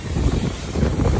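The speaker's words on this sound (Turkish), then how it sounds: "Biraz rüzgar var. Rüzgar arttı." Wind buffets the microphone outdoors at a truck wash, a steady, close rumble with slight surges across about a second.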